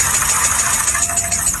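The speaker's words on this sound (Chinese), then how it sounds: "发动机敲缸异响" A car engine with a knocking fault runs loud and close, a steady mechanical drone with a faint rapid ticking texture and no pauses.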